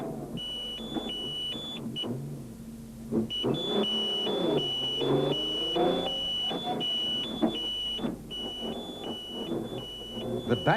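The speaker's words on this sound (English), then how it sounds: "as the overtaking hooter alarm confirmed" An overtaking hooter alarm at the 2003 Carnival City 400 powerboat race sounds as a series of sharp electronic beeps in short repeated bursts, loud over a rumbling engine background.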